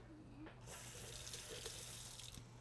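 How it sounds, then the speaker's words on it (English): Tap water runs into a sink as a spoon is rinsed in a kitchen, a steady close splashing rush after a brief start, with no talk over it. "Let me just rinse it for you."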